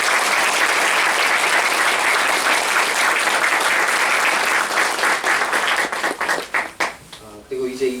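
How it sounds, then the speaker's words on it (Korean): A church congregation gives warm, sustained applause for a departing finance volunteer, dense clapping filling the room for several seconds before thinning into scattered claps near the end. "박수를 드립니다."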